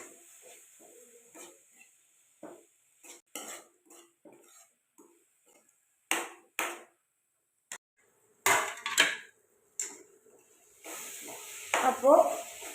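Ginger garlic paste is stirred in a pan for Kerala beef roast, with scattered scraping strokes and short bursts of sizzling that come and go at close range.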